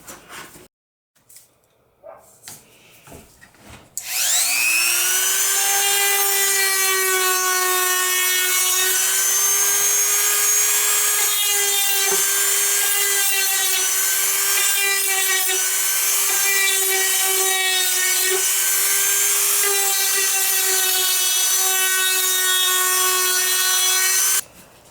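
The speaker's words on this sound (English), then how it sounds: "going to pull my rotary tool back out to sand up these holes and get them cleaned up" A rotary tool sands burrs out of drilled holes in wood for a pet leash holder, spinning up after a few quiet handling knocks into a loud, sustained high-pitched whine with slight pitch wavers as it bears on the wood.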